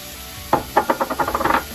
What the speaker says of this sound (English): We're going to add the onions.